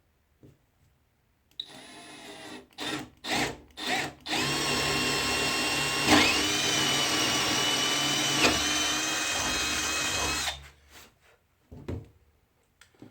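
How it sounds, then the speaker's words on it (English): Nearby, a power drill drives angled fasteners through a breadboard end into a wooden table top. A few short starts lead into one loud, steady whir of about nine seconds, then the drill stops. "when I drive these in, I want them to kind of go in at an angle and grab and pull the breadboard in snug"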